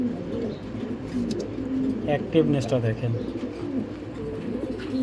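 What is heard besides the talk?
racing pigeons cooing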